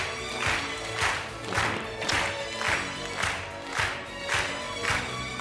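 A studio audience at a French TV game show claps in loud, rhythmic unison, with regular pulses of applause about once a second and some cheering mixed in.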